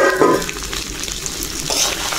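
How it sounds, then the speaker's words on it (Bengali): Lentils for khichdi fry in a pan, a steady close sizzle with stirring scrapes running throughout, no talking. "ডালটা নিয়ে একটু আগতে ভাজে নিলাম"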